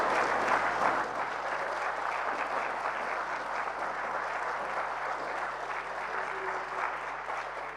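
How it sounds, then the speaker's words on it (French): Sustained applause from a parliamentary plenary session fills the hall, a dense, steady wash of many hands clapping at moderate distance, holding level throughout with faint background voices. "je veux demander à la plénière d'applaudir très fort"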